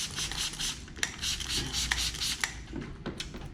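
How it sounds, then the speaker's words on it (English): A squeegee rubs and pushes across protective film on a BMW Z4 M Coupe, giving a steady close scraping rasp with a few sharp ticks, no talk. "I'm going to move to my bigger squeegee"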